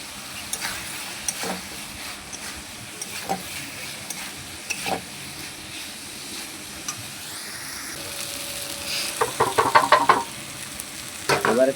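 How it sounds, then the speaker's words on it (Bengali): Potatoes stirred with spices in a pan, scattered scraping strokes of a spatula over a faint sizzle, then a quicker run of louder rhythmic stirring scrapes near the end; no talk. "এবার আলুগুলো ওর সঙ্গে কষিয়ে নিচ্ছি মশলার সাথে"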